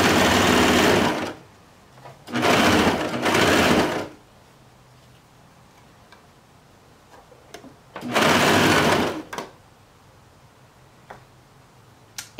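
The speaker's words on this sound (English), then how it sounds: "So now I'm gonna go ahead and sew the crotch area." A sewing machine stitches the crotch seam of boy shorts in three loud bursts of rapid whirring, separated by pauses with light clicks.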